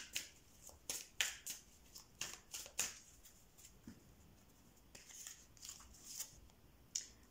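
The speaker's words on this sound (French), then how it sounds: "Alors, on va sortir plusieurs cartes." Tarot cards are drawn and laid down one after another, a run of soft close flicks and slaps at an uneven pace, quiet and without speech.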